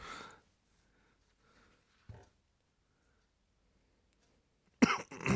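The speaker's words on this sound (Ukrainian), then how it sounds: "Кашлю щось" A couple of short coughs: one rough burst at the start, a small one midway, and a louder, harsher cough at the end, with quiet gaps between.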